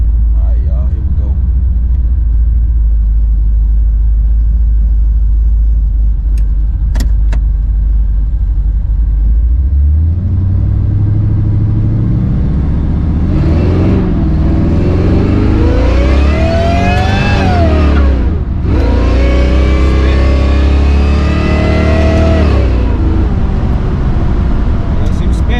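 A supercharged Cutlass idles with a deep rumble, then accelerates hard and loud as a spinning tire loses traction, the engine surging in long rising and falling sweeps with no talk over it.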